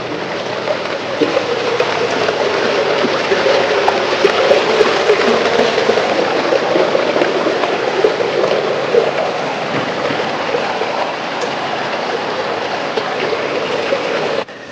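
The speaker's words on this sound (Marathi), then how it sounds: "गावाकडचे ओढे कसे वाहतात." Broad, steady rushing of a clear, shallow village stream flowing and burbling over its bed, continuous and fairly close for the whole stretch with no voices.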